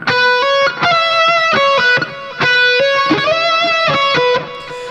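A distorted electric guitar plays a repeating melodic hook with quick picked notes and bends, loud and up front with no talking.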